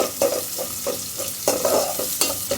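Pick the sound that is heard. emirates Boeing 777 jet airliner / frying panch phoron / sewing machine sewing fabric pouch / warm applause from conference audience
frying panch phoron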